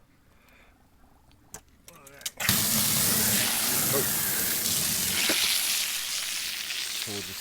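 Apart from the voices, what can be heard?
water running into a duck's bathtub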